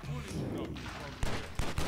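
Rapid gunfire in John Woo's Stranglehold, several sharp shots cracking in quick succession near the end after a stretch of busier game noise, with a voice talking over it.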